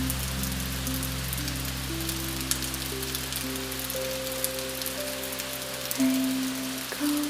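Steady, calm rain patters evenly throughout, a soft continuous wash layered under gentle sustained musical tones, with no voices.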